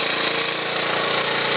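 A Honda CT110 motorcycle engine idles steadily during carburetor tuning, a continuous close mechanical putter with a fast, even pulse and no speech.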